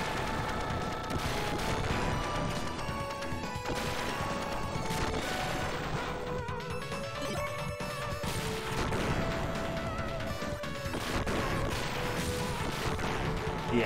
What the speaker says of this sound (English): We have like homing shots now.